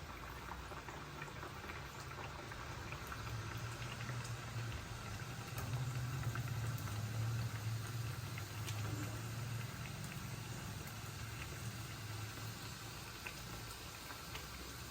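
Steady bubbling sizzle of sajja burelu, millet sweets, frying in hot oil, a continuous close boiling crackle that swells slightly in the middle and holds evenly throughout.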